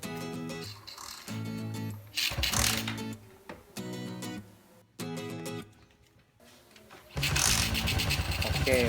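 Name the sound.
Suzuki Shogun SP motorcycle engine starting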